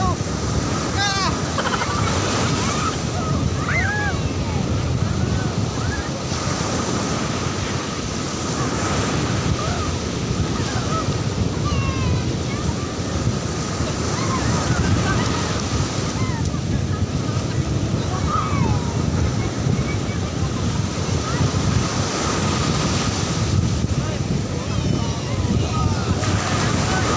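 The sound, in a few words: ocean waves at Patar Beach, Bolinao, with wind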